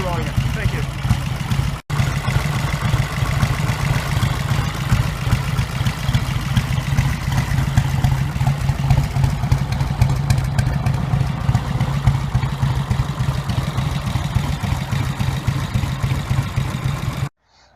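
A BSA motorcycle engine, a V-twin, runs at a steady idle close to the mic, with a continuous low throbbing rumble and mechanical clatter that stays even from start to finish.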